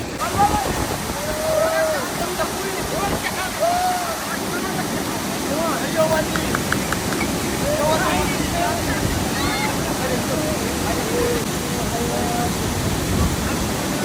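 A waterfall fed by sulphur springs in Wadi Hajlan roars steadily and loudly at close range, a constant broad wash of falling water with faint chirps scattered over it.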